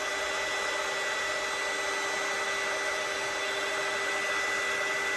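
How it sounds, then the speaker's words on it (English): A heat gun blows steadily on an epoxy-coated tumbler, giving a constant whirring hiss with a fixed hum, close and unbroken. "I always use my heat gun because, well, it's pure laziness."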